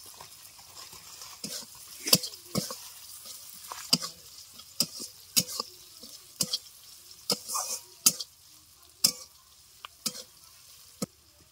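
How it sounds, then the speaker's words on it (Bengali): Onions salted and frying in a pan sizzle steadily while a spatula strikes and scrapes the pan again and again in an uneven rhythm, close and fairly loud. "একটু লবণ দিলাম। পেঁয়াজটা লাল লাল করে নেবো"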